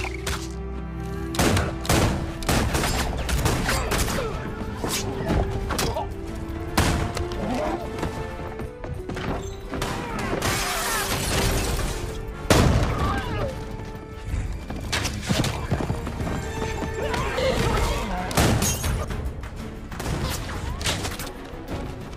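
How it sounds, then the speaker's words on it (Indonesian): A movie battle scene with a barrage of gunfire: rapid shots and bursts, machine-gun rattles, crashes and booms, mixed with score and effects. Voices come in at times. "Di tengah pertempuran, Goodnight malah terlihat aneh dan tidak sama sekali melepaskan tembakan ke arah musuh"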